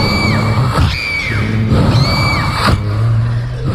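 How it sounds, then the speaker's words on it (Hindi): A woman's screams of pain repeat in a horror story soundtrack, several loud drawn-out shrieks in sequence over a dense layer of low rumbling and noise. "दर्द के मारे कलीथा जमीन पर बैठकर चिल्लाने लगी।"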